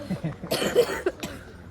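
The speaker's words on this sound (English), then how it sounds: "Stop coughing. You're ruining my video." A few quick, muffled coughs break up over nearby talking and faint chuckling, brief and close.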